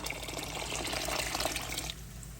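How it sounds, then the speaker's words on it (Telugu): Water pours steadily into a cooking pot while making mutton chakoli for about two seconds, a close, splashing gush that then stops. "ఇదిగో ఇప్పుడు నేను వాటర్ వేస్తున్నాను, చూడండి."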